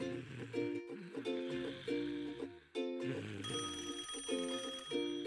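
A cartoon telephone rings in repeated bright electronic bursts with short pauses between them, and a busy, tinkling musical background runs underneath.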